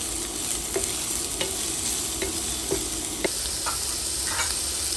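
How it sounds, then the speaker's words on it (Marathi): Sliced onions frying in a pan for Goan mutton xacuti, a steady broadband sizzle with occasional soft clicks of stirring, close and continuous with no talk. "आता कांदो तळसून घेवया."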